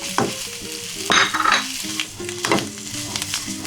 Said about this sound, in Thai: หลังจากนี้นะคะก็คือใส่เนื้อสัตว์ลงไปเลยค่ะ หลังจากนั้นเอาเส้นใส่เข้าไปเลยค่ะ